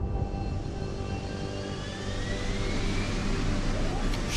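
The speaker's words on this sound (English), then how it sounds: "Goddamn takeoff scene." A Deus Ex: Human Revolution aircraft powers up for takeoff, its jet engine roaring steadily with a whine that climbs slowly in pitch, loud and continuous throughout.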